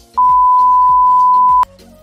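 A loud, steady single-pitch censor beep holds for about a second and a half, cutting sharply in and out over faint background sound in a college vlog.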